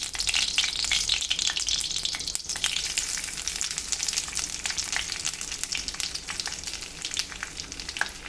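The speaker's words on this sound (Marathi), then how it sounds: "जिरं चांगलं तडतडलंय." Dense, rapid crackling and spitting of cumin seeds in hot ghee, a steady loud sizzle with sharp pops throughout and no voices.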